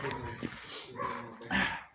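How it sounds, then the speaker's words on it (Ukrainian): Dog barks in a few short bursts amid an outdoor rural scene, the barks moderately near and mixed with background noise and some human voices. "Зараз собака його нажене."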